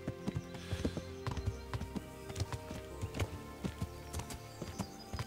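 Horse hooves clip-clopping steadily while riding across open countryside in Kingdom Come: Deliverance, a regular trotting rhythm of close, fairly quiet hoofbeats continuing throughout.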